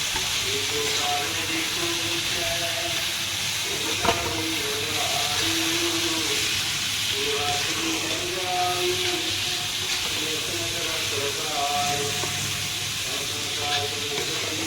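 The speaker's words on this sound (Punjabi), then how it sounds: "ਹੁਣ ਆਪਾਂ ਕਰਾਂਗੇ ਮਿਕਸ ਮਸਾਲੇ ਦੀ ਜਿਹੜੀ ਸਾਊਂਡ ਹੈ ਨਾ ਉਹ ਬੜੀ ਸੋਹਣੀ ਲੱਗਦੀ ਹੈ" Masala for baingan bharta mixed and fried in a pan, a steady hissing sizzle with scraping stirs, while a voice talks intermittently over it.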